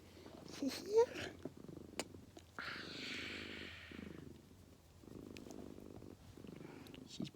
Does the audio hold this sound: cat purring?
yes